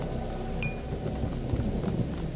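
Steady rain falls in a dark medieval scene in A Plague Tale: Innocence, a continuous low wash of downpour with rumbling undertones.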